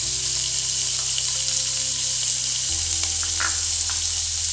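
Chicken pieces frying in oil in a pan for homemade pizza topping, a steady close sizzle throughout with a brief stir partway and a low hum underneath.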